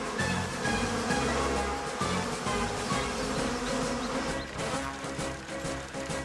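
Buzzing of a cartoon bee in an animated film, a steady insect drone running continuously and fairly loud, mixed with low musical or ambient sound beneath it.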